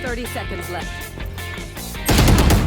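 Rapid gunfire in the shooter game Valorant, a dense loud burst erupting near the end after a stretch of game music and effects.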